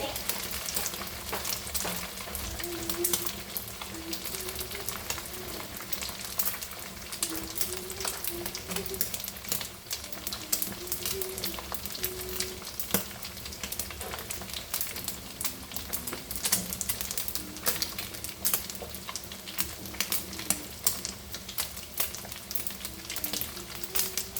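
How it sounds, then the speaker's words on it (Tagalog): Dried anchovies (dilis) frying in oil give a steady crackling sizzle that runs throughout, close and moderately loud, while a voice sings faintly in the background. "Habang piniprito ko yung guys yung aking dilis"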